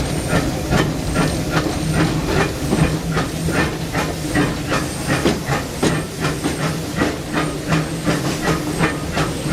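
A Disneyland Railroad steam locomotive hisses loudly and continuously, with a steady rhythmic chuffing pulse running through the steam.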